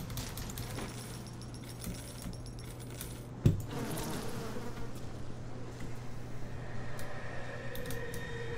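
Faint buzzing of bees in the BioShock video game, a thin droning hum running steadily throughout, with a sharp metallic click and jangle near the middle.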